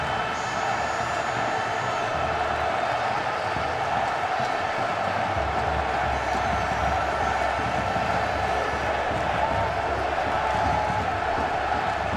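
Audience at a Mexican government ceremony for López Obrador applauding steadily, a dense, continuous wash of clapping and crowd noise that holds at an even level throughout.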